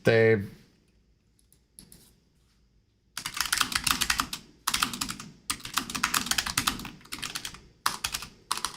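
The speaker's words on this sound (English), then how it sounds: "Sounds like a typewriter." A computer keyboard clacks in rapid, typewriter-like bursts of typing, close and loud, separated by brief pauses, with a thud at the start.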